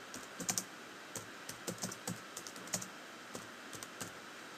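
Fingers tap a computer keyboard in uneven bursts of light clicks, close and fairly quiet over a steady faint background hiss.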